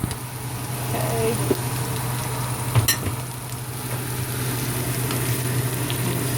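Onions sizzle and fry steadily in a pan in a small home kitchen, a constant close crackle with a few scraping stirs and a brief clink partway through.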